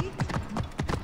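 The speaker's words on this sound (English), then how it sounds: "Why I'm running on my horse through a temple, I don't know." Horse galloping through a temple in Assassin's Creed Origins, a quick run of hoof clip-clops thudding in an uneven rhythm, close and fairly loud over a faint background.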